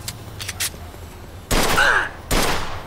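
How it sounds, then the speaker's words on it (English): Gunfire from the video game Mafia II Definitive Edition: a few faint, distant pops, then two loud, close bursts of shots in quick succession. "got some nut job here shooting a gun."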